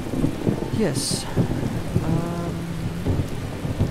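Rain pours steadily with a low rumble of thunder in Skyrim Special Edition, while a voice briefly speaks over the storm and a short bright chime rings out near the start.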